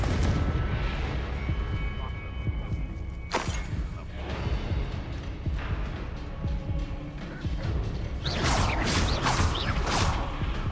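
Confringo fire spell blasts in the Hogwarts Legacy PC game, dense explosive bursts and crackling impacts rolling through the scene, with a sharp loud hit near three seconds and a heavy surge near the end, a voice mixed in.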